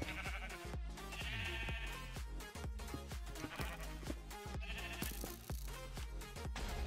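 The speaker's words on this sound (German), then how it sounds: "Die Schafe kommen richtig gut." Sheep bleating over busy game music with a steady thumping beat; the bleats rise as wavering calls above the rhythmic backing, no voices.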